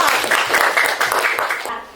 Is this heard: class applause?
yes